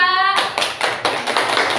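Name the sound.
applause, clapping for a student group in class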